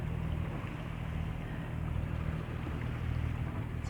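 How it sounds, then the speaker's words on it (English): A sailboat's engine runs steadily under motor at just over 5 knots across flat, calm sea in the Sound of Luing off Scotland, a constant low drone with water wash, no speech. "We've opted to keep the engine on just to give us just over 5 knots so we can meet our tidal gate."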